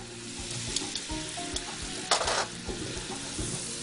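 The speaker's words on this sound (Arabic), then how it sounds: "الثوم ما يتحمرش، يا دوب ان هو يتشكشك" Garlic frying gently in ghee or butter, a soft steady sizzle with scraping stir strokes and a brief louder clatter of the utensil against the pan midway.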